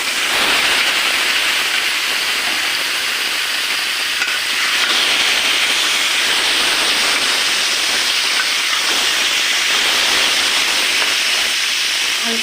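Potatoes go into a pan of fried spices and sizzle loudly, a dense continuous hiss of frying that stays steady and close throughout, with no talking.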